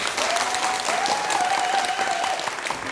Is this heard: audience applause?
yes